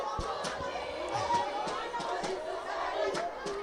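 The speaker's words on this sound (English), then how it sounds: "the crowd is roaring here today" A crowd at a winter club rugby derby between Progress RFC and Buffaloes gives off a steady, continuous roar of cheering and chatter, with a commentator talking over it.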